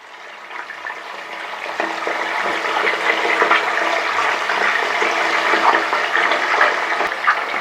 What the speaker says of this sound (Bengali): তেল গরম আছে, এবার মাছের মাথাটাকেও ভেজে নিই।